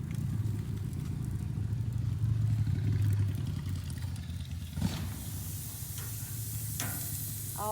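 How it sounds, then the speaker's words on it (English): Steaks sizzling on a hot patio grill, with ribs finishing alongside: a steady, close frying hiss throughout, with a motorcycle passing in the background. "Oh, I love that sizzle."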